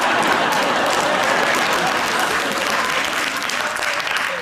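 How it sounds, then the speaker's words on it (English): Studio audience of the comedy panel show 8 Out Of 10 Cats breaks into loud, sustained applause, a thick continuous roar of clapping with a few faint voices mixed in. "it might be a bit of clapping"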